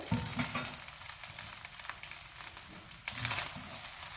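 Chicken fried rice is scraped and scooped out of a hot pan, with soft scraping, rustling and faint sizzling going on continuously at low volume.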